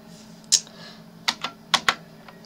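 A handful of sharp computer keyboard key clicks, spaced irregularly with two close pairs, heard alone over a faint low hum during a PC game session.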